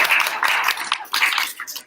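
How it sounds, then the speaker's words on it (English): Applause from an audience at a legislative round-up gathering: a brief, close burst of hand clapping that swells and tapers over a couple of seconds, with no talk over it. "Let's give them a round of applause."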